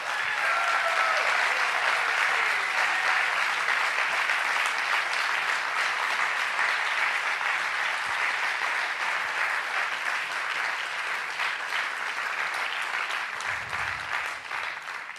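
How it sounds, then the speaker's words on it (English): A large audience at a plenary meeting in Athens claps in sustained, dense applause that stays loud and even for the whole stretch before gradually thinning near the end. "An applause for them, please."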